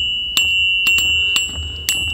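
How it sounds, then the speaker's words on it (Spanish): A small solenoid with a spring-loaded movable core strikes a bell, producing about five sharp metallic dings at irregular intervals, each leaving a steady high ringing tone that sustains between strikes. "No tenía otra cosa que pudiera sonar como una campana."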